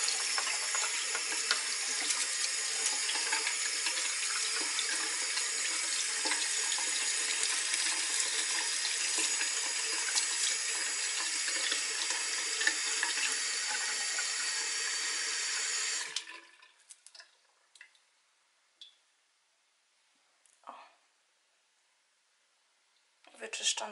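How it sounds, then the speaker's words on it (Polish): Tap water runs steadily into a sink for about sixteen seconds while a hairbrush is rinsed, then shuts off, leaving faint drips and small knocks in a quiet room. "I teraz pod wodę."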